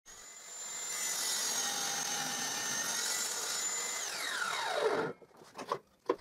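A table saw makes a 45-degree crosscut through a clamped wooden workpiece: a steady loud whine runs for about five seconds and then spins down, followed by a few faint clunks.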